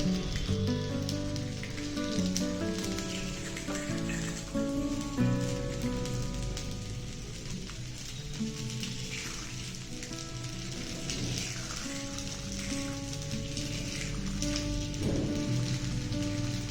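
Paniyaram batter cooks in a paniyaram pan on a medium stove, a dense continuous crackling sizzle like light rain that holds steady throughout, with faint tonal background hum and no talking.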